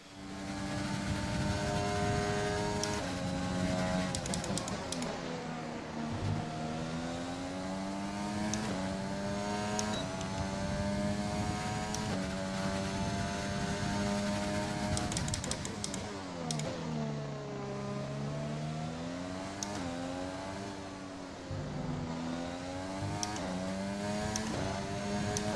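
Formula 1 car engine in the F1 2020 racing game, loud and continuous throughout, its harmonic whine rising and falling with repeated upshifts, downshifts and braking into corners, with no talking.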